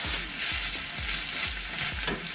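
Spinach sizzles in a hot pan with onions and garlic, a steady close frying hiss punctuated by soft, regular thuds of stirring.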